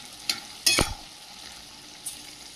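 Onions fry in a pan under a soft, steady sizzle, broken by a few distinct scraping stirs and one louder clatter of a utensil against the pan near the start. The sound is close and fairly quiet, with no talking.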